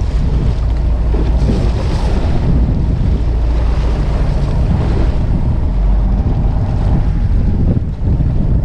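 A fishing boat out at sea in strong wind and white-capped swells, with a steady roar of wind buffeting the microphone and rushing water and waves filling the whole stretch, loud and unbroken, no talking.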